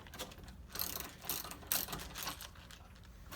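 Bolts are removed from a Stern Pinball Stranger Things Premium cabinet with a ratchet, making quick bursts of close, crisp clicking in short uneven runs.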